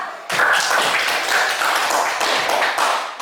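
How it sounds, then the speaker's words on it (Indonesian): Classroom applause for a student named Tata, a steady burst of many hands clapping that starts abruptly and carries evenly through to the end, close and moderately loud. "tepuk tangan untuk Tata"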